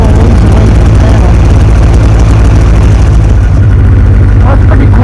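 Loud, steady snowmobile engines idle nearby, a constant heavy rumble that drowns out the background, with a voice faintly audible beneath.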